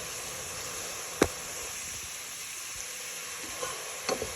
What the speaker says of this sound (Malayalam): അതിലേക്ക് നമ്മൾ അരിഞ്ഞു വെച്ചിരിക്കുന്ന 3 സവാള ചേർത്ത് കൊടുക്കുകയാണ്.